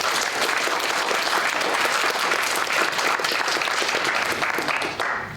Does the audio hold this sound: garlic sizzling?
no